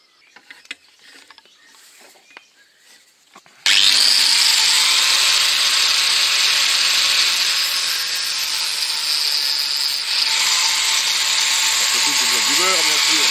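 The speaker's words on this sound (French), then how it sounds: "Tronçonneuse." A power saw cuts old knife blades to length, starting abruptly after a few quiet seconds of handling noise and then whining loudly and steadily for the rest of the clip, with a slight change in pitch near the end.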